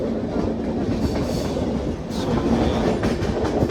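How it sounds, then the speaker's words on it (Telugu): The Kirandul passenger train from Vizag to Araku runs fast on its tracks, giving a loud, continuous roar with a rapid wheel clatter and brief higher squeals, heard from on board. "ట్రైన్ కాస్త స్పీడ్గా తీసుకెళ్తున్నాడు."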